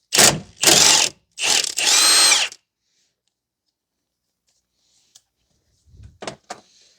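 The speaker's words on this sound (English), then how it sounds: "I need to get my impact too" An impact wrench works on the front wheel parts of a 2009–2019 Toyota Corolla, with three loud, close bursts early on, then quiet, then a few short, sharp rattles near the end.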